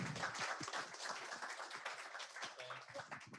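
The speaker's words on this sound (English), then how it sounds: "Let's give her a round of applause" A team meeting gives a team member a round of applause: dense, steady clapping from many hands runs the whole time, with a few voices mixed in.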